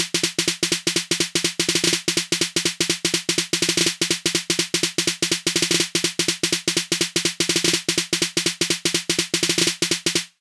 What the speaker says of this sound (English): One of the sort of main elements in the build is this 808 snare,